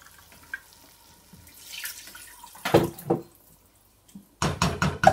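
Tap water runs briefly into a can in a kitchen while a tomato and onion tart is made, starting as a faint trickle, then a few short splashing gushes, with a louder burst of pouring near the end.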